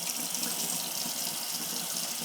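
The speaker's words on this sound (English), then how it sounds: "we'll run the hot water" Hot water runs steadily from a tap into a sink, a continuous close hiss and splash that holds even from start to finish with no voices over it.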